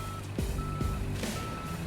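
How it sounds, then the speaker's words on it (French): A truck's reversing alarm beeps loudly and evenly, a tonal beep repeating about every half second over a steady engine rumble, with no voices. "Les alarmes de recul doivent répondre à des normes spécifiques."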